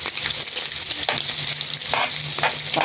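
Minced garlic sizzles and fries loudly in a hot pan, a dense continuous crackle with occasional stirring scrapes, close and alone without speech.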